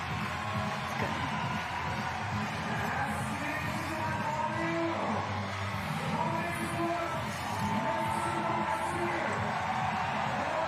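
A crowd cheers and roars steadily through the lead climbing semi-final at Innsbruck 2025, a sustained wash of spectator noise with faint voices mixed in.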